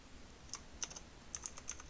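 Python code is typed on a computer keyboard, with light, faint key clicks in small uneven bursts over a soft steady background hum.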